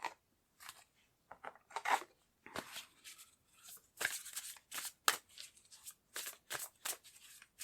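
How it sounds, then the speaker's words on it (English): Tarot cards being shuffled and pulled for a reading, a run of quick papery riffles, slaps and flicks coming in irregular bursts close by, with no talk over them. "I'm going to pull a few more cards just to see."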